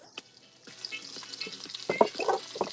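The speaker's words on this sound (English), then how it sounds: "I hear that sizzle." Food sizzling in a hot frying pan, a steady crackling hiss with a few louder pops near the end as ingredients hit the oil.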